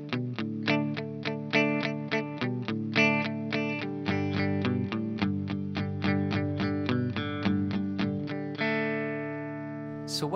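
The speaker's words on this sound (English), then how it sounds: "you can play this little riff in there if you want as well." A distorted electric guitar plays a short riff variation, quick repeated picked chords and single notes in a steady pulse, ending on a ringing sustained chord, close and alone.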